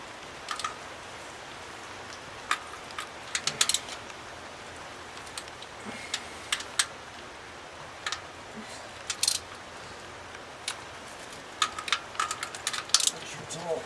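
A torque wrench clicks while bolts are tightened to spec on a big block engine with new hardware: scattered sharp, close metallic clicks over quiet background hiss, with some speech.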